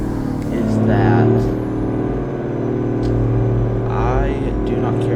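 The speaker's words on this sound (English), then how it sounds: "I love the sound of this engine." Steady low rumble of a Peterbilt 359 truck's engine in American Truck Simulator, with a deep harmonic drone that swells slightly and then holds at an even level while someone talks over it.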